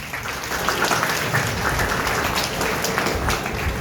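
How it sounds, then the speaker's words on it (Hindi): Applause at a school principal's address, a dense, loud crowd of clapping hands that continues steadily and evenly throughout, with no speech over it. "उसके लिए भी बहुत जोरदार ताली।"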